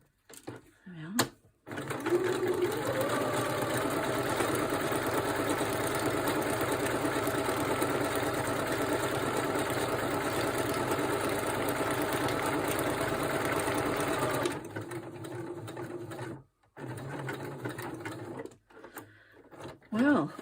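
A sewing machine stitches ephemera in a long steady run of motor whir and rapid needle chatter, stopping abruptly, followed by quieter handling sounds and brief pauses.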